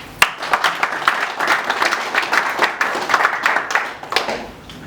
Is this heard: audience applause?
yes